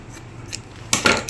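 Scissors cut through fabric being prepared for stitching a simple garment, giving a short crisp snip near the end after a quiet moment.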